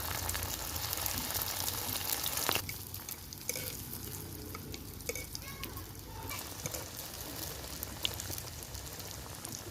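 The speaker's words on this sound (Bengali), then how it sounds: "এই যে পাউরুটির টুকরাগুলো দিয়ে গরম তেলে দিয়ে আমি ভেজে নেব" Slices of bread frying in hot white oil in a kadai, giving a steady crackling sizzle with scattered pops throughout, fairly close and moderately loud, with no talking.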